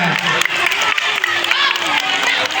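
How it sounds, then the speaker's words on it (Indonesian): A crowd applauding for two children at a police anti-bullying education event, a dense wash of clapping over a couple of seconds, with voices mixed in beneath it. "Tepuk tangan untuk dua anak tersebut ya."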